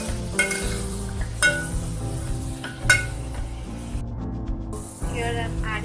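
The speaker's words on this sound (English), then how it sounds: "Saute it properly." Turmeric powder and hing sautéing in a pan for sambar, a steady close sizzle with soft stirring scrapes and a few sharp utensil clinks against the pan, continuous throughout.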